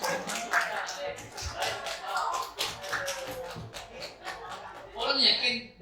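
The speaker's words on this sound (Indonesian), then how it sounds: "Tepuk tangan untuk kami berdua." Scattered, light clapping from a small school audience, with sharp taps spread through the stretch while voices talk and chuckle over it.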